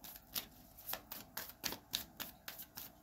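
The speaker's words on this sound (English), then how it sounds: "I just put those back in and shuffled." A deck of tarot cards is shuffled in quick, rhythmic riffles and snaps, about a dozen crisp bursts recorded close but quietly, with no speech.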